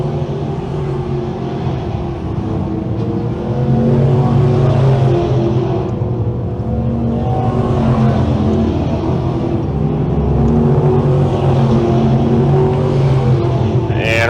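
602 crate sprint cars racing on the Can-Am Speedway dirt oval, a loud continuous engine roar that rises and falls as cars pass through the turns, with crowd and track noise beneath.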